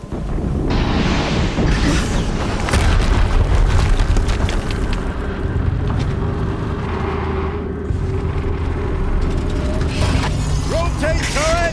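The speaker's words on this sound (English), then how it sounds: "Another explosion." An explosion in the video game Horizon Zero Dawn, a loud sustained rumbling blast with crackling debris and mechanical clatter filling the whole stretch, with a voice speaking over it.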